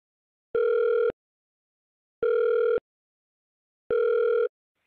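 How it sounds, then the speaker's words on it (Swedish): An outgoing telephone call rings in three identical steady electronic tones, each about half a second long and separated by regular pauses of silence, loud and clean with nothing else heard. "det här är Aftonbladet Daily som ringer upp Anna-Sara Carnahan"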